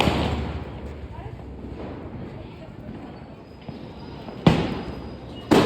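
Sky shot fireworks set off at Diwali, with sharp close pops and a loud bang near the end over a rushing, hissing background, and people talking nearby.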